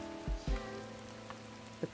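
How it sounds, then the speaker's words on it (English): Gentle rain patters steadily in the Beast of Reincarnation game world, a soft continuous wash beneath low steady tones, broken by a few louder thumps and a brief sharp tap near the end; no voices. "The pitter-patter of the rain."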